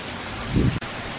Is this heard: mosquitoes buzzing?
no